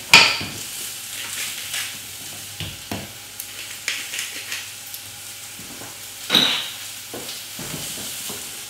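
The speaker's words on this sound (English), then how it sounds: "Keep stirring that through, and you can see the spinach is really starting to wilt down there." Spinach, sweet potato and honey stirred in a hot pan, with a steady low sizzle and a series of scraping, clinking strokes of a utensil against the pan at irregular intervals, close by and with no talk.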